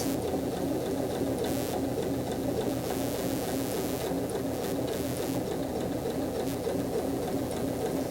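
A sewing machine runs continuously close by, a steady, busy mechanical whir with a rapid needle patter, as it back stitches an edge stitch on a hip pocket; no talking.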